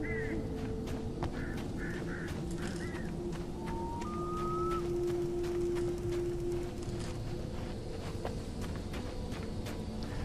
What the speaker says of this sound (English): there's a flock of birds.